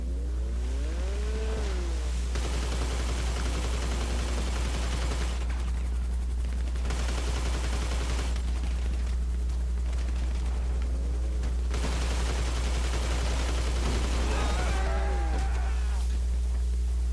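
Gunfire in GTA, continuous rapid shooting in long sustained bursts separated by short pauses, loud and dense over a steady low hum, with no voices.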